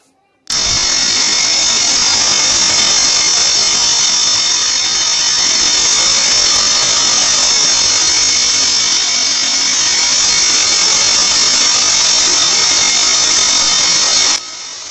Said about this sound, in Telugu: ఇలా మిషన్తో అనేది హోల్ చేయాలి